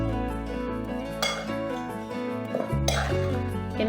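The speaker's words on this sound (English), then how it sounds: "just give it another mix to incorporate everything evenly" A spoon mixing soft brown sugar into gingerbread cake batter in a bowl, with steady scraping and clinking against the bowl and a few louder knocks, close and with no voices.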